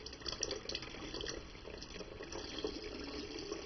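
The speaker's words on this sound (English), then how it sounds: "So I'm just going to give it a rinse with a bit of cool water." Cool running tap water splashes steadily over silver coins being rinsed, a continuous close hiss of flow into a sink with no voices.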